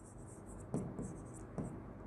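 A pen or marker scratches out a variance formula in a few short strokes, with two heavier taps where it presses or lifts, close and fairly quiet over a faint background.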